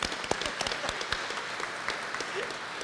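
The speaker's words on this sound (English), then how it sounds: "let's give her a round of applause just for being here" Moderately quiet applause from an audience at a gala, a continuous patter of clapping hands with a few sharper individual claps.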